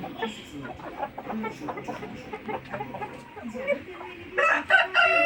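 Fayoumi and Tiger chickens cluck and crow in a busy, overlapping chorus, with a louder, brighter crow rising near the end.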